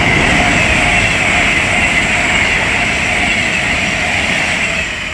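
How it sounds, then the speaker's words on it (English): A coupled pair of Avanti West Coast Class 221 Super Voyager diesel trains passes on the West Coast Main Line at Leighton Buzzard, a loud steady roar of engines and rolling wheels that eases slightly at the end. "The next train to pass by is going to be an Avanti West Coast pair of 2-1 Super Voyagers from Birmingham New Street to London Euston"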